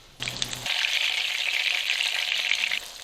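A breaded schnitzel, coated in flour, egg and breadcrumbs, hits hot oil in a pan and sizzles loudly and steadily for a few seconds at close range.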